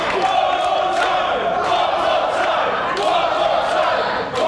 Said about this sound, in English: The crowd asking for one more go.